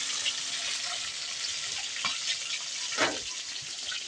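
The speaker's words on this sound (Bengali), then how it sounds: "ডিমগুলো আগে হলুদ লবণ দিয়ে দিয়েছি, তো তেলে ছেড়ে দিলাম।" Eggs rubbed with turmeric and salt fry in hot oil, giving a steady close sizzle with a couple of sharper crackling bursts.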